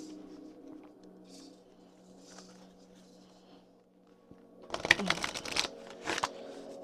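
Oracle cards are shuffled by hand in a burst of dense, crisp riffling, loud and close after a stretch of quiet background murmur.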